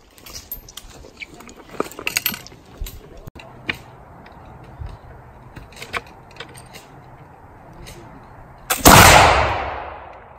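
A muzzleloader rifle fires once at an outdoor shooting match in Montana, a single loud, sharp blast near the end that rings out with a long decaying tail, after quieter handling clicks and light background noise.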